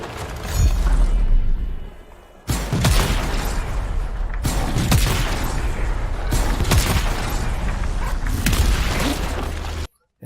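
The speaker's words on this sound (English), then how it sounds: "The effects, especially explosions from the Colossus, are so intense that I sometimes barely see anything while it is happening" Explosions from the Colossus in the video game Anthem, a series of loud, dense booming blasts with crashing debris and mechanical clatter running almost continuously, then cutting off abruptly.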